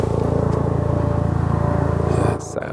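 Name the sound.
helicopter flying overhead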